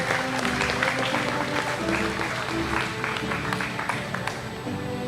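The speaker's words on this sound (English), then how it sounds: "let's give our students who graduated with honors a big warm-up applause" Audience applause at a senior high school commencement ceremony, honoring students who graduated with honors; dense, steady clapping fills the hall at moderate level throughout, with faint tonal music or hum beneath.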